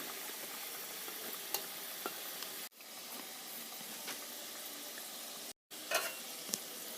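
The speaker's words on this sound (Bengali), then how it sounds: "পাল্টি করে দিলাম, হালকা লাল লাল করে ভেজে নিতে হবে" Jilepi pitha, a coiled Bengali jalebi-style rice cake, sizzles steadily in hot oil with a constant crackling hiss, a few sharper pops, and two brief breaks in the sound.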